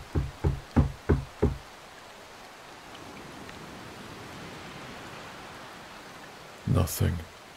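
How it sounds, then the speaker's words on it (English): A door takes a burst of loud knocking: five sharp, evenly spaced raps up close, then a steady hiss like rain or white noise, with two more heavy thumps just before the end. "He knocked again, louder this time."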